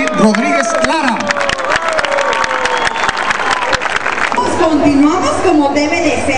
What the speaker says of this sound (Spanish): Aplauso también para otra dama